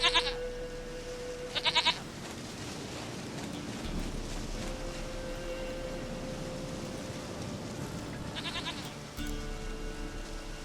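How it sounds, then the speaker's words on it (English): Goat bleats from The Witcher 3 video game, two short bleats near the start and another around nine seconds, heard over a steady ambient game background with low droning tones. "Goat of mine, dearest,"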